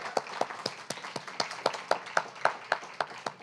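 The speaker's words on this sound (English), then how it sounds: "a round of applause for Mark's return" A small audience at a poetry reading claps for a returning poet, with sparse, distinct hand claps at a moderate pace, fairly near and modest in volume, no voices over it.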